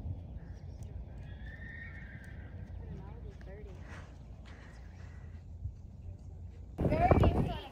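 A horse returning home whinnies and neighs over steady outdoor background noise, with soft clip-clopping hooves. A voice speaks near the end.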